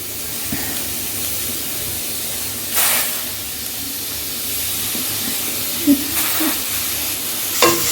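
Curry leaves dry-roast in a pan without oil, giving a soft, steady hiss with occasional louder scrapes and rustles as they are stirred.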